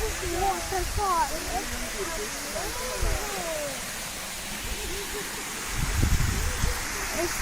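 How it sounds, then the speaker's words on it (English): Steady broadband rush of a waterfall near a temple and caves in Maharashtra, continuous and fairly loud, with birdsong chirps early on and brief low thumps and handling noise. "Look at this waterfall."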